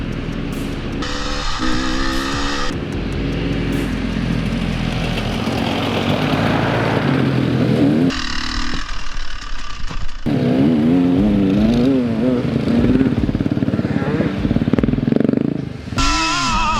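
Motorcycles riding: loud, continuous engine drone with revs rising and falling and pitch shifting as the bikes accelerate, mixed with road rumble and clatter, and no talking.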